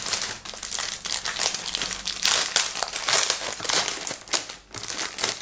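Plastic beauty-haul packaging crinkling and tearing as it is opened by hand, a dense, continuous close-up rustle with sharper crackles throughout, no speech.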